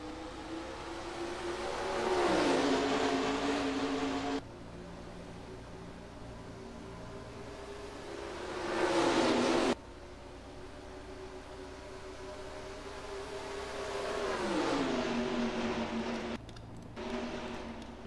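Race trucks in NASCAR Racing 2003 at Rockingham, a steady engine drone swelling and fading as the field passes, with a continuous rumbling roar throughout.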